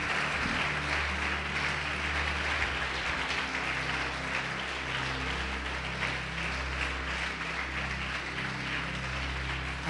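A church congregation applauds in praise, a continuous wash of clapping over a steady low hum, sustained evenly throughout.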